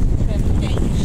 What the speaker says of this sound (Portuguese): Tomara que não fica esse barulho no vídeo depois de vento